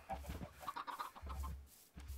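Chickens in an automatic chicken farm in Minecraft 1.8 give a few short, soft clucks in quick succession, close by, with brief pauses between them and no speech.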